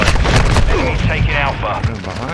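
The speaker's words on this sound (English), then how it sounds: "I shot him in the head!" Rapid gunfire in a Call of Duty multiplayer match on the small Shipment map, a quick burst of loud overlapping shots with booming impacts and game voices mixed in.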